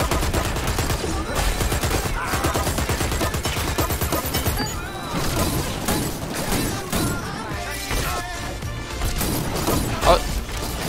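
Rapid gunfire rattles almost nonstop in Dirty Bomb, with bursts of automatic shots and impacts layered over each other, loud and close, while voices talk over the din.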